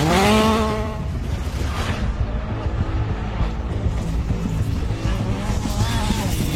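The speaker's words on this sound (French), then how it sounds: "Julien Morin débute au volant de sa nouvelle DS3." A DS3 rally car on a rally stage lined with dry-stone walls, its engine revving sharply at the start before a loud, sustained roar that continues throughout, with no talking.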